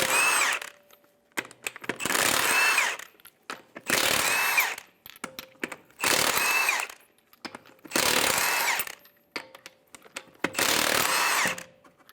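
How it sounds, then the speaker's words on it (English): Impact tool on a 22mm socket spinning off the six lug nuts from a 2008-2017 Buick Enclave front wheel: six loud, evenly spaced bursts of whirring and rattling, each about a second long, with short quiet gaps between them and no talk. "remove the 6 lug nuts."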